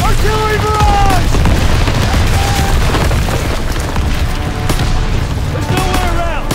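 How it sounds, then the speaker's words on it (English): In Call of Duty WWII, an artillery barrage sends heavy booming explosions through a battle on a hill. Shouting soldiers speak over the continuous roar, and the rumbling blasts are dense and loud throughout. "Get down! Artillery barrage!"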